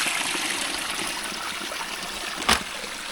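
Water runs off rock and pours down beside a mountain trail on Mount Hale after weeks of rain, a steady, close rushing flow with one brief louder splash near the end.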